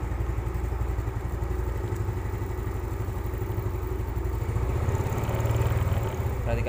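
A motorcycle engine runs steadily nearby with a fast, even pulsing rhythm, then swells slightly louder as the throttle opens while battery voltage is being measured.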